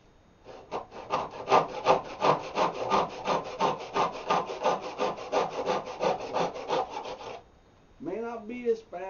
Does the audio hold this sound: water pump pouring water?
no